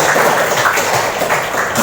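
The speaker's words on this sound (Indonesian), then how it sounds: "tepuk tangan dulu buat Fatimah Zahra" A classroom group applauds a student named Fatimah Zahra, a steady wash of many hands clapping close by, continuous for a couple of seconds.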